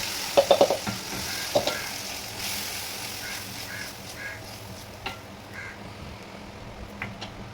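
Food sautéing in a pan, hissing gently and steadily while a few sharp clinks of a utensil sound early, followed by scattered scraping stirs.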